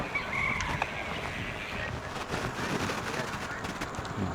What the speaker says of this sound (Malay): Itu dia ayam Turki.